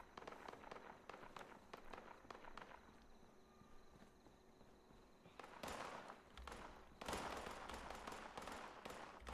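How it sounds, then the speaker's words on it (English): Distant gunfire in the Fallout 76 wasteland sounds as scattered sharp cracks and bursts, with a louder cluster of shots later on, heard without talk. "I hear gunfire."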